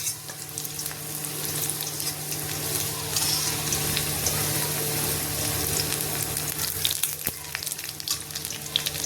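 Chopped garlic lightly frying in a pan for masoor dal bharta, a steady soft sizzle and crackle throughout, fairly quiet with occasional stirring clicks and no talking.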